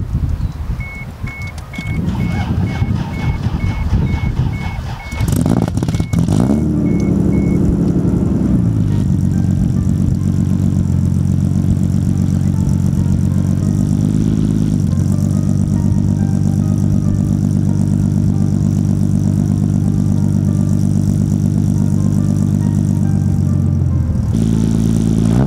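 A Toyota Supra engine cranks briefly, catches and settles into a loud, steady idle that runs on close and uninterrupted, with a small rise in revs partway through and a brief change near the end.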